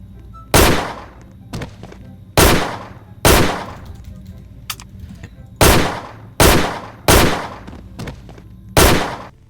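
Seven sharp pistol gunshots from a Roblox video game ring out alone, each a loud crack with a short decaying tail, spaced irregularly about a second apart.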